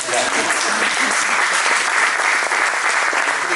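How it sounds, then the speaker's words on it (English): An audience at a climate week panel on industrial decarbonization, in Los Angeles, applauds steadily in a dense, even wash of clapping that carries through the whole stretch at a consistent loudness. "You can clap for that."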